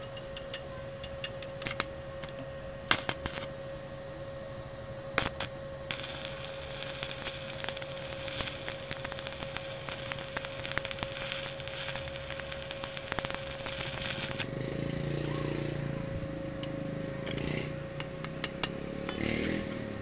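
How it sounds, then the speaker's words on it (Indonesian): Arc welding on thick steel plate at 40 amps, a steady crackling, buzzing hiss with a constant hum that grows rougher and louder near the end, close and without talk. "Ini besinya tebal yang kita las."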